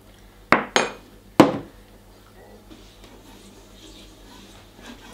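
A spoon stirs raw chocolate pumpkin truffle mixture in a bowl: three sharp, ringing clinks close together, then only faint, quiet stirring.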